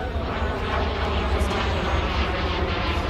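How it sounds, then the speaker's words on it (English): A private jet passes overhead at a classic car show on Amelia Island, giving a loud, steady jet-engine roar that fills the whole stretch. "Got a 25 overhead. Someone's private jet."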